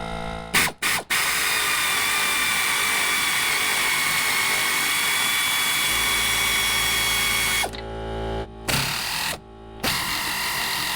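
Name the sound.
air tools loosening seat bolts in Chevy Astro van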